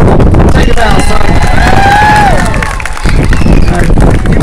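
A loud outdoor crowd cheers and claps steadily for a bowing child at a street performance, a dense wash of applause and shouts with no pause.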